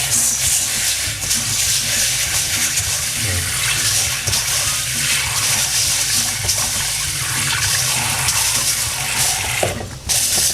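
Mung beans being washed under running water, a loud continuous gush and splash of tap water with a brief dip near the end, no voices.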